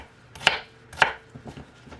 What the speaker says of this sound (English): we're just going to dice these potatoes